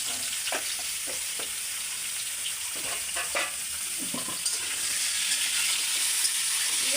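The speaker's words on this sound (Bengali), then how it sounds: "ভালো করে ভেজে নেব।" Potatoes, pointed gourd and whole garlic cloves fry in a pan, lightly salted and dusted with turmeric, giving a steady hiss with occasional scraping clicks from stirring, close and continuous with no voices.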